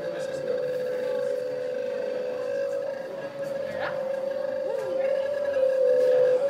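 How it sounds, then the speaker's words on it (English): Steady sine wave tones from an art installation whose pitches shift as rocks are moved, a sustained hum with higher overlapping tones and brief gliding sweeps, held continuously throughout. "Just a basic sine wave, and you can physically move the frequencies up and down to hear the interaction of the different waves."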